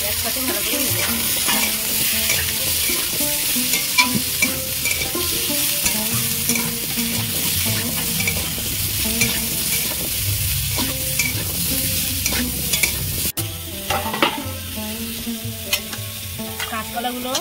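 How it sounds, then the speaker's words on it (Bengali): Potatoes and drumstick stems fry in a pan with already-browned onion and chilli, a steady sizzle broken by frequent scraping stirs of the spatula. The cooking is close and fairly loud, with no talk over it. "একসাথে ভালো করে ভেজে নেব।"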